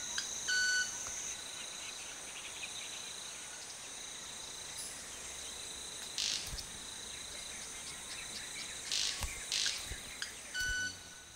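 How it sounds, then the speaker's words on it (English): Sharp high-pitched chirping calls, made by birds' wingtips, sound in short bursts over a steady background hum of insects. "how do these birds make their peculiar high-pitched calls?"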